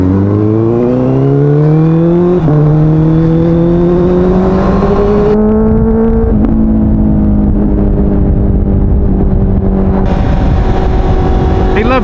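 A Honda CBR motorcycle engine climbs steadily through the gears on a sunny ride, its rising harmonic whine loud and close with a gear change and sustained high revs, wind noise in the background.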